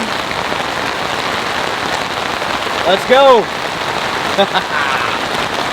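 Heavy rain pours steadily onto a tarp shelter during an overhead thunderstorm, a dense continuous hiss close by, while a voice speaks briefly and a bird calls a few times in the background.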